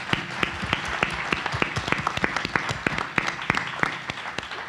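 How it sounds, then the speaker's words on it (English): Audience applause at a conference panel on military adjustment and invisible wounds, a steady patter of many hands clapping with sharp individual claps standing out, sustained and fairly close throughout. "Let's give them all a round of applause."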